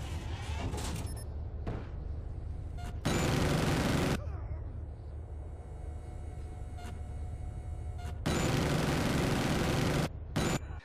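A sentry gun in Call of Duty Black Ops lets off bursts of automatic gunfire, loud rattling volleys separated by quieter gaps of in-game ambience, a short burst early, a longer one mid-clip and more near the end.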